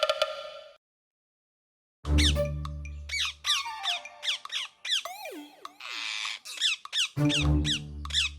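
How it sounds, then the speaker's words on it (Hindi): Cartoon parrots freed from a cage in a jungle setting let out a flurry of sharp squawks and sliding squeaky chirps, close and busy after a short silence. "चेम्बन की मदद से आजाद हुए तोते"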